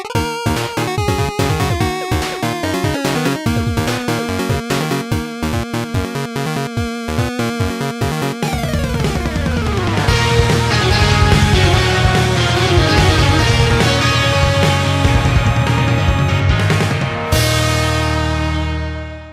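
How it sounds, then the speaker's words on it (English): Music played back from an old cassette tape, blending classical orchestral passages with pop elements; it is dense and continuous, grows fuller and louder about halfway through, then thins and fades near the end, with no talking. "There's this music on here which sounds like this classical music mixed with this pop stuff."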